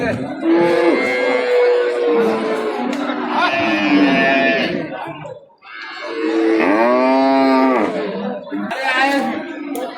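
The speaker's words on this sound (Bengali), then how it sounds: "এই যে দেশি দেশি গাবি গরুগুলো আছে" Several local deshi cows with calves moo in long, loud, drawn-out calls, one after another, at a cattle market, with a crowded background of voices and animals nearby.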